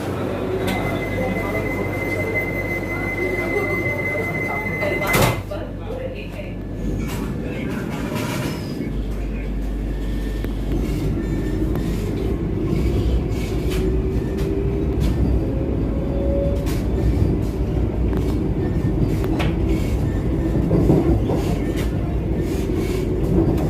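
Riding aboard the Howrah–Puri Vande Bharat Express as it runs, a steady low rumble of the moving train fills the cabin, with faint rattles and clicks throughout.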